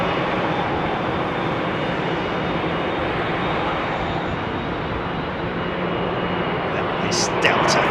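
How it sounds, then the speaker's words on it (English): Jet airliners sit lined up on the ground at London Heathrow with engines idling, a steady, broad roar that holds evenly throughout, with a short sharper sound near the end. "Nice engine noise as these jets all sit here lined up ready to go."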